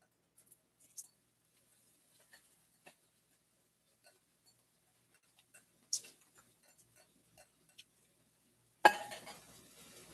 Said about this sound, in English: We're going to go ahead and put this shrimp in the skillet.